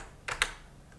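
Two quick, crisp keystrokes tap on a computer keyboard close by, followed by quiet room tone.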